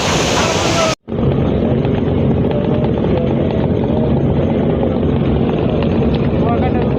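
Roaring engine and wind noise aboard a racing passenger launch on a river near Chandpur, a steady close broadband rumble with a brief dropout just after the first second.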